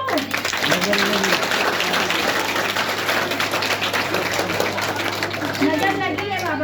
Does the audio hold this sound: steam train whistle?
no